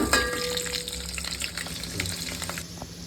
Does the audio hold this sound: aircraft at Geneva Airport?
no